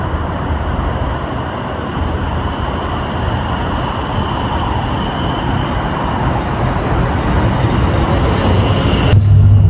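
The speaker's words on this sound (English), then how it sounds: "train should be here in a minute" A train rolls near Beaulieu Park station in Essex, a broad, steady rumble of rail noise that swells slightly toward the end, loud and unbroken with no speech over it.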